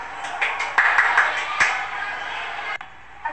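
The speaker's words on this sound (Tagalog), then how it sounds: "kaya bigyan ng palakpak ang sarili" A class claps for themselves, a short burst of massed classroom applause that runs steadily for a few seconds with a few sharper slaps before cutting off.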